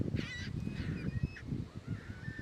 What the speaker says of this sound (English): the gulls are kind of screaming at each other next to me